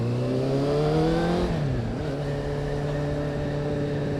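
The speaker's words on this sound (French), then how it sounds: "Celle-ci est équipée d'un échappement MIV et ça chante bien." Suzuki Bandit 600 motorcycle with an MIV exhaust, its engine singing loud and close at high revs, then dropping sharply as it shifts and settling into a steady, lower-pitched pull.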